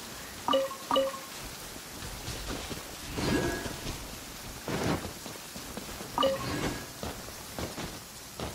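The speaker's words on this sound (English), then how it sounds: "It always rains when I go on an adventure." Steady rain hisses in Genshin Impact with occasional soft thunder rumbles, while brief chiming game sounds ring out now and then.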